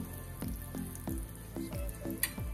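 Fish frying in hot oil at home, a quiet close sizzle broken by a run of soft crackling pops and drips spaced about every half second.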